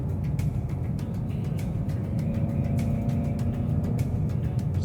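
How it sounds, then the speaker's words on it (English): A 2010-2023 Ford Mustang with an SCT throttle booster turned up, heard as a steady low engine drone from inside the car, with a faint rise in tone as it accelerates gently. "You can actually hear the car accelerate"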